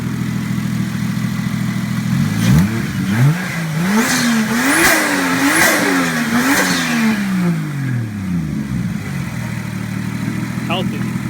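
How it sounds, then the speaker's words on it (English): Toyota 1JZ VVTi engine swapped into a Nissan S13 revved in a series of quick blips rising and falling over an idle, loud and close, with a person talking nearby. "So go ahead and give it a little rev for you guys."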